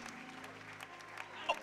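A church congregation claps at a live Easter Sunday service, a brief and fairly quiet burst of applause with a lively crowd sound behind it.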